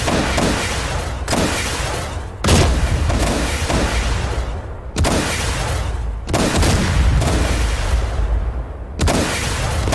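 WWII anti-aircraft guns firing in the flight simulator DCS World, with heavy booming shots at a regular pace of roughly one every second or two, each followed by a rumbling decay. The blasts are loud and close, with no talk.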